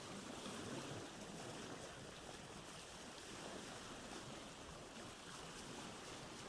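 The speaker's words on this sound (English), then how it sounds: "the water is too loud" Sailing a sailboat in Vintage Story, continuous rushing water and surf with wind-like noise, steady and fairly faint throughout.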